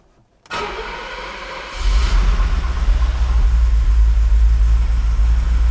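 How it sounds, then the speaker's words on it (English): A 1971 Mercedes-Benz 280 SE fires up from cold: a brief cranking burst, then the engine catches and settles into a loud, steady low rumble close by. "That's a cold start."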